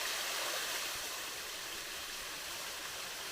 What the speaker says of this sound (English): it's a beautiful little waterfall